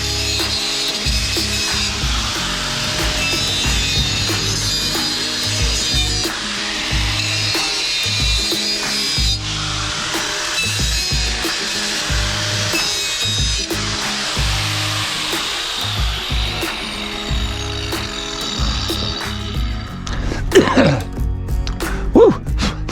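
Chamfer being cut on the end of a 4-inch drainage pipe, a rough, repeated rasping and scraping heard up close for about twenty seconds, ending with a few clattering knocks.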